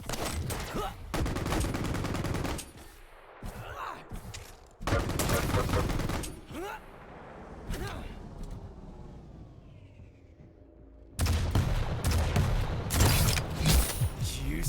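Rocket launcher fire and explosions in a Quake-style competitive match come in loud dense bursts of weapon blasts and booms, broken by quieter gaps of game noise.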